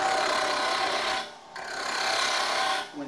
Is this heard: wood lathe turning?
yes